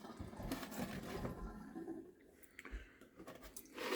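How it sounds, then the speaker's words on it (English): Water runs from a tap in a house, a moderately faint continuous gushing and splashing that wavers in strength for a few seconds. "We're just going to turn on some water and give these guys a bath."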